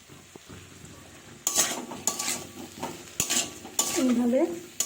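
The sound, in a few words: stirring chopped tomatoes and potatoes frying in pan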